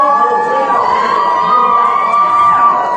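A church congregation shouts and screams praise together, a loud, continuous wall of overlapping voices and cheers that fills the room without a break.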